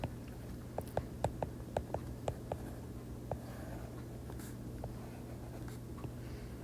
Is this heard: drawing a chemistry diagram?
yes